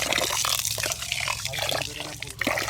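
Rice being rinsed with water in a plastic container, a short watery sloshing and trickling that runs steadily under overlapping voices.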